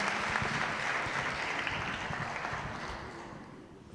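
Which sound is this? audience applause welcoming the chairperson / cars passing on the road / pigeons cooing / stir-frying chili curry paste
audience applause welcoming the chairperson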